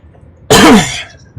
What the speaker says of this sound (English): I cannot help coughing.